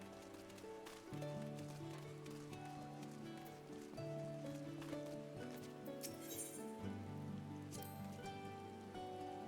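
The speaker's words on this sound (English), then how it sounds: "And it's raining." Rain in the video game Final Fantasy XIV, a soft steady patter of drops under sustained background music, faint and continuous throughout.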